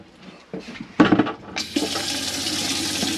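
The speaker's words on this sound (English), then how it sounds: "this is just showing that your water pump is working" A water pump starts up in a Roller Team Pegasus 740 motorhome, beginning with a few short knocks and clunks before settling into a steady, loud whirring hum with rushing water that runs on without a break.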